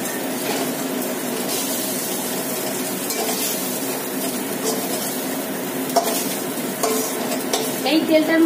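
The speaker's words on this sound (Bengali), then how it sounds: "আমার চিকেনটা ভাজা হয়ে গেছে" Chicken pieces fry in hot oil for chowmein, giving a steady, close hiss with soft scrapes and clinks of stirring and a few sharper pops near the end.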